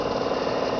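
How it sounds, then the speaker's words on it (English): Small motor of a rooftop solar water-heating system on a little building near a water catchment: a steady, even mechanical hum with faint rapid vibration, continuous and moderately close, with no voices. "You might be able to hear a little motor in the background."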